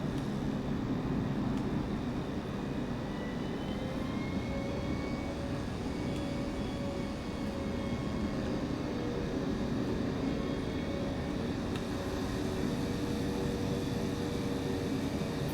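An airliner with 28 passengers taxis to runway 27 right at Miami in Microsoft Flight Simulator 2024. A steady jet engine drone with a low rumble and a faint whine continues unchanged throughout, with no talk.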